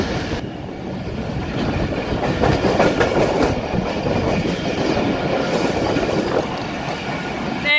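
Karachi Circular Railway local train running on its track toward Drigh Road station, a loud, steady rumble with continuous clickety-clack of wheels from close by, and a brief squeal at the very end, with no talk.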